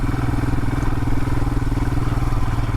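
A Royal Enfield Himalayan motorcycle engine thrums steadily while being ridden, a loud, close, continuous low throb without pauses or speech.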